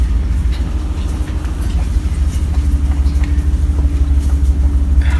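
A truck climbing a slope in four-wheel drive, its steady engine drone and low road rumble loud and continuous throughout, with no talking.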